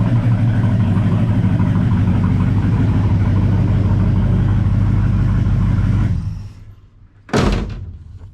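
A Pontiac Ventura car engine runs at a rough, steady idle, then cuts off into quiet, followed by a single sharp, loud door slam.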